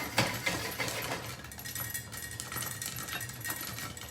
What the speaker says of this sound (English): even if you hear it popping, like the vapor valve clicking, clicking steady